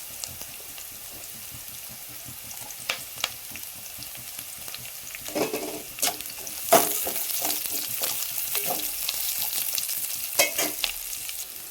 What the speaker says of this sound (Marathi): असं ऑनियन भाजत आलं की मग तेव्हा आपण अद्रक आणि लसूण टाकायचं